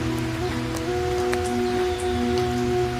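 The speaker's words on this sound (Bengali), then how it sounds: "বৃষ্টি এত জোরে হচ্ছে, যে কোনো সময় ঝড়ও আসতে পারে" Heavy rain falling as a cartoon sound effect: a steady, dense wash of downpour lasting the whole stretch, with sustained musical tones held underneath and no voices.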